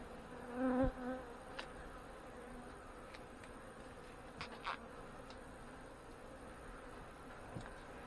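Honey bees buzz around an open hive with a low-population upper brood box filled with nectar, a steady, close, continuous hum that fills the whole stretch, with a few brief knocks and clicks on top.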